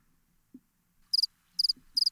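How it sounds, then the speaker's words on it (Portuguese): A cricket chirping sound effect: three quick bursts of high-pitched chirps, each a rapid triple pulse, evenly spaced against near silence with a faint low thump earlier. "Coloca o grilo"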